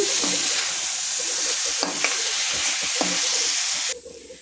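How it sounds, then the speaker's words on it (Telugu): Omelette pieces are stirred into a garlic and chili mixture in a hot pan. A loud, continuous sizzle runs under several scraping strokes, then drops sharply quieter near the end. "జాగ్రత్తగా కలిపేసుకుందామండి అంతాని"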